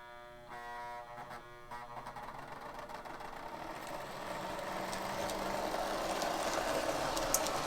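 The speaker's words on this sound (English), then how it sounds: "I'll show you guys what this engine looks like running." A 1974 Lionel MPC O scale model train engine from a D&RGW set runs on track, first with a buzzing electrical hum, then a steadily building mechanical whir and rattle that grows louder over several seconds.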